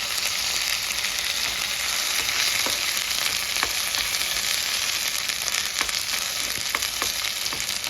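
Bheja (brain) fry made with only a little oil sizzles steadily in a pan while it is stirred. Occasional scraping clicks cut through the constant close frying hiss.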